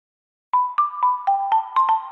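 Sound logo jingle for the Tulatero lottery app: a bright sequence of seven short, evenly spaced electronic chime notes with a sustained tone beneath, played alone after a half-second of silence.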